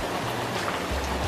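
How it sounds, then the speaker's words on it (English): Heavy rain pours steadily outdoors as a dense, even hiss that fills the whole moment without a break, with no voices over it. "can you guys hear the rain?"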